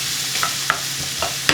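Garlic, then onions, go into a hot pan for a creamy garlic prawn pasta, giving a steady close frying hiss broken by a few sharp clinks and scrapes of stirring.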